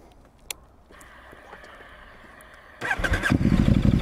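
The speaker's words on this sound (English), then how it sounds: "the SC Project pipe on the KTM 1290 Super Duke R" A KTM 1290 Super Duke R with an SC Project exhaust and the dB killer removed: a faint idle rumble with a brief click, then a loud, close engine bark and rev bursting in near the end.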